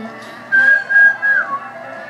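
Three short whistled beeps in a row, high and clear, followed by a brief lower note, over a steady low background, a Super Mario 3 SNES game sound.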